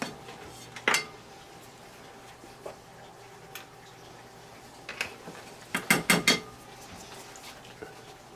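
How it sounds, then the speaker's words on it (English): Flour mixture is stirred in a bowl, with sparse clinks of a utensil on the bowl, then a quick cluster of sharp scraping knocks, all close and otherwise quiet. "I'm going to mix up my flour mixture"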